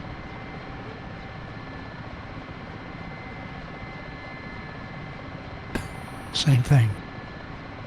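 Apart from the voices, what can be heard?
Mi-8 helicopter engine from a flight simulator video game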